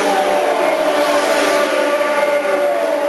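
Indy 500 race cars at full throttle during the 1995 race, a loud high-pitched engine whine sweeping slowly in pitch as the cars pass, steady and sustained without any talk.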